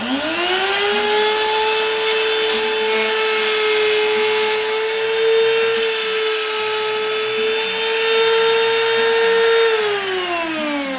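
A handheld router whines steadily and loudly while plunging back and forth once to cut a pocket for a Futures surfboard fin box, using an aluminum guide collar; a sustained high tonal motor whine holds for the whole stretch, then begins to spin down.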